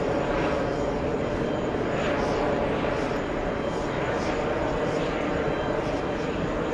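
An SAS Scandinavian airliner taking off for Copenhagen, a steady broad engine roar from a distance that holds constant throughout, with faint talk mixed in.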